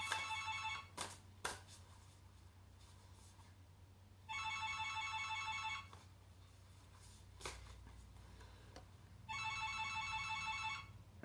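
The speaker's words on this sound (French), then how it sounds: "j'ai le téléphone qui sonne" A telephone ringtone plays in two electronic bursts of about one and a half seconds each, several seconds apart, over a steady low hum with a few sharp clicks and knocks between the rings.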